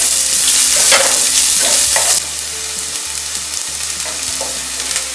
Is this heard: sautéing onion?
yes